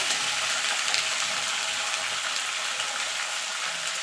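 Green beans and potatoes frying together in a pan give a steady, even sizzle and crackle throughout, with no talking.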